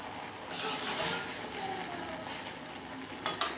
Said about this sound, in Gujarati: ચારથી પાંચ મિનિટ સુધી આપણી મેગીને બનવા દઈએ તો અહીંયા આપણે ફરી હલાવીશું